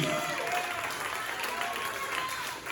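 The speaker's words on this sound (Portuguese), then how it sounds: "Aplauda o nome do Senhor Jesus." A congregation claps steadily, with voices mixed into the dense applause.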